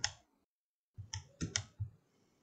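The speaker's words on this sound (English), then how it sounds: "right mouse click" Several sharp, quiet computer mouse clicks sound close up while working in Rhino 7 modeling software, one alone, then a quick cluster of four, with no talking.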